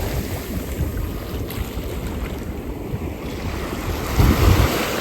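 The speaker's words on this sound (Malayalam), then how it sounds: "നന്നായിട്ട് തിരയടിക്കുന്നുണ്ട്" Sea waves break on a beach at sunset in a steady, rolling roar, with wind buffeting the microphone throughout and a heavier surge washing in near the end.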